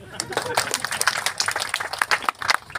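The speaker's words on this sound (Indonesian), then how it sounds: "coba kita tepuk tangan" An audience at a regional government event claps hands in a scattered, uneven patter of sharp individual claps, moderately close and continuing without a break.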